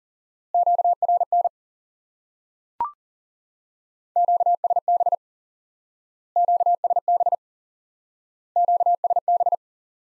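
Repeated Morse code tone bursts sound in short groups with silent gaps, plus a single sharp static crackle of radio noise between them, clear and isolated.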